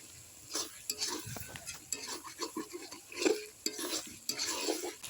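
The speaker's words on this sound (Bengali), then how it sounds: "এখন একটু নেড়ে নিচ্ছি" Spoon stirring tomato, salt, turmeric and chilli powder in a cooking pan, close scraping and clinking strokes in an irregular rhythm over a soft sizzle.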